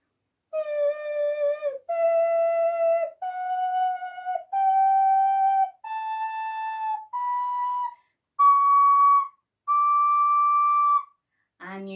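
An ocarina, freshly blown through to clear it, plays a slow rising scale of eight clean, breathy held notes, each separated by a short gap, close and clear, with a brief voice at the very end.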